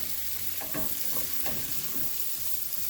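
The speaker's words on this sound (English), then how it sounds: "We're going to stir," Onions being stirred as they fry and begin to caramelize in a pan with sausage and peppers, giving a steady close sizzle broken by a few scraping strokes of the spoon.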